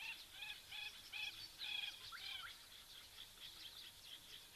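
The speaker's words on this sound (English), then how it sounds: "Sounds like a gorgeous bush shrike." A gorgeous bush shrike calls in the African bush, giving a run of faint, clear whistled notes in quick bursts over a quiet background of distant insects.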